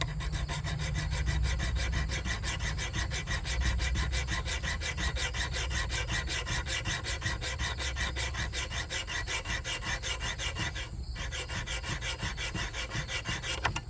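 A file rasps against the steel of a carving axe to rough in a beveled edge. The scraping strokes repeat steadily and close up, with a brief louder scrape near the end and no voices.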